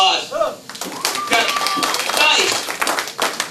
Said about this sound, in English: How many parents do we have? By a round of applause.